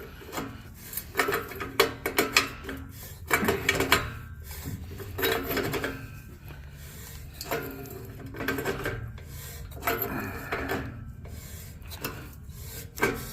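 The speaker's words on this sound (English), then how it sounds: "Hear that muffler coming apart still." An O2 sensor wrench works against a Chevrolet Blazer's exhaust, producing repeated scraping, rasping and metallic rubbing strokes as the muffler section is worked loose, close up and irregular.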